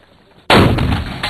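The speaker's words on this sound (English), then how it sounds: "little sympathetic detonation there." A sympathetic detonation follows rocket launcher fire: one sudden, loud, close blast bursts out of near silence and rumbles on heavily to the end of the clip.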